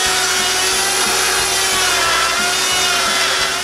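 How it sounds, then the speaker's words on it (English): A circular saw rips a bowed wooden board straight in a workshop, its high steady whine loud and continuous, with a repeating low thumping pattern beneath it. "Since some boards have more than 1/2 inch of bow in the center, I cut them straight with the circular saw."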